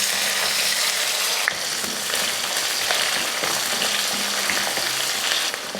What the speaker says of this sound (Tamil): எண்ணெய் காஞ்சதுமே கடுகு, கொஞ்சமாக வெந்தயம், கடுகு பொரிஞ்சதுமே கொஞ்சம் கருவேப்பிலை, அடுத்து சின்ன வெங்காயம்